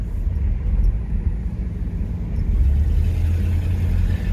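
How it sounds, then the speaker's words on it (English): A 1966 Pontiac Star Chief Executive is on the move, heard from inside as a steady, heavy low engine and road rumble that swells slightly partway through. "One more part of this drive test, I'm going to put it on the freeway"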